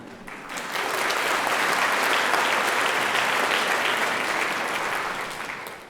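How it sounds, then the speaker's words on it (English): A theatre audience bursts into applause, the clapping swelling quickly into a dense, loud roar of many hands, holding steady and then tapering off. "give yourselves a round of applause as well"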